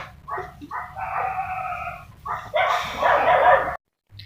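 Dogs bark and yip in short bursts, a couple of quick barks followed by longer, louder whining howls close by, then abrupt silence.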